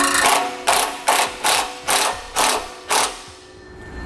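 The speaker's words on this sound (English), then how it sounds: "Now we'll tighten these bolts down a little bit." Ratchet tightening bolts on a Blue Ox base plate during installation on a 2016 vehicle: seven quick ratcheting strokes in an even rhythm, close and clear, then a short fade to quiet.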